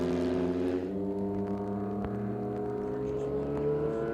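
A historic racing sports car on a wet circuit holds a steady engine drone that climbs gradually in pitch, with one sharp click partway through, the revving engine close and continuous.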